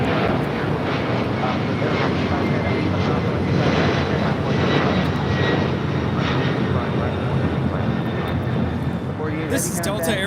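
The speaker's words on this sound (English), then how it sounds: "This is Delta Airlines 488 taking off to Atlanta on a 767-400 ER." A Delta Airlines Boeing 767-400ER departs LAX for Atlanta, its engines producing a loud, dense, sustained roar close by that stays strong throughout, with a short burst of faint speech near the end.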